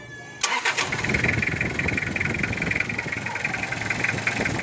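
A car engine cranks and catches after a brief beep, then settles into a steady, loud idle up close, just after a noisy fan belt was replaced.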